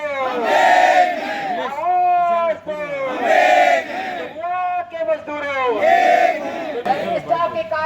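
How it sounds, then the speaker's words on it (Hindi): Loco pilots at a demonstration over long shifts in extreme heat without fans chant protest slogans in loud, rhythmic group call-and-response, voices swelling and dipping in repeated waves. "प्रदर्शन के दौरान लोको पायलटों ने होश में आओ, रनिंग स्टाफ से मत टकराओ, आवाज दो हम एक है के नारे लगाए।"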